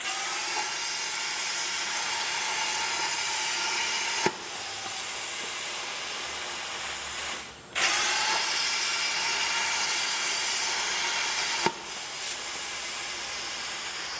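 An RC6 rotary plasma cutter slices through a large 12.75-inch aluminum part, a loud, steady broadband hiss running without pause, broken only by a couple of short clicks and one brief dip partway through.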